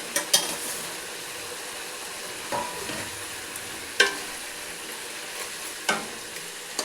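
Fish heads hit a hot pan with cumin powder, coriander powder, green chillies and hot water for Bengali cabbage chachchari, giving a low steady sizzle broken by several sharp scraping clicks of a spatula against the pan.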